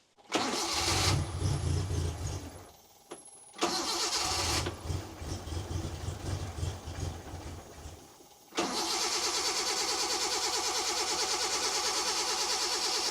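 A kei truck engine with a carburettor, spark plugs pulled and refitted, cranks in repeated bursts trying to fire, then catches into a steady fast idle that runs on alone, loud and close.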